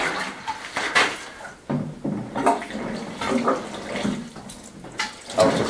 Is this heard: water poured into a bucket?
yes